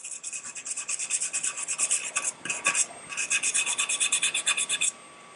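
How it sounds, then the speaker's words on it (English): A brush scrubbing an object in steady back-and-forth strokes, close and rasping, with a short pause midway before the rhythmic scrubbing resumes and then stops. "Give it a nice little scrub a dub."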